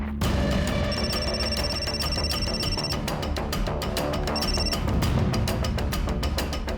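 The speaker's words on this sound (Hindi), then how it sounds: "आप तो बस मौसा जी को फोन लगा रही हो ना" A telephone bell rings in repeated bursts, loud and close, with short pauses between rings and steady background sound throughout.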